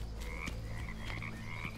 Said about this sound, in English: Is that a frog?